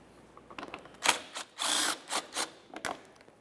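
A power tool backs out the bumper cover mounting bolt on a 1994-1997 Honda Accord, in a series of short, sharp bursts with one longer steady whir in the middle, fairly close and with no talk.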